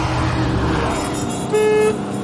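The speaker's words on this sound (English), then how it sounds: "Pathetic horn." A weak, thin car horn sounds once in a short steady toot of about half a second, over the running engine and road noise inside a small car.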